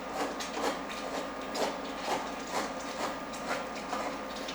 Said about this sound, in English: Let me get the can opener to work.